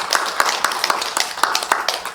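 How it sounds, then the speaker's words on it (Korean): Scattered applause from a congregation at a Sunday Buddhist service after a lecture, several hands clapping close and fairly loud with uneven, overlapping beats throughout. "다시 한번 큰 박수로"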